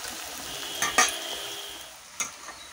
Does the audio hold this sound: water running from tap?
no